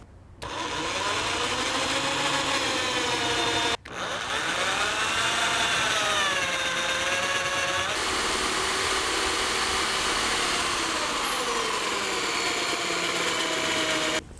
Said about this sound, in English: This is why you drill from the top